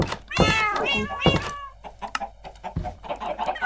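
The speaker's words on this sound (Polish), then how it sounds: "tutaj są moje kici mici, małe kici mici" Cats in the Minecraft video game give several close, loud meows in quick succession, with clucking chickens from the same game mixed in and a person talking briefly between them.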